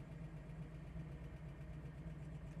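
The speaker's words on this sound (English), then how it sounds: "big block is idling fantastic" A 1969 Chevrolet Nova Yenko-style big-block V8 idles in neutral in a showroom, holding a steady, even low rumble with a smooth continuous throb and no popping, sputtering or stalling.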